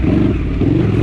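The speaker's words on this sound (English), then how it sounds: "That's about all the revs it's got at the bottom" A Honda CX500 motorcycle engine revs loud and close, a rough, pulsing low drone lasting about a second.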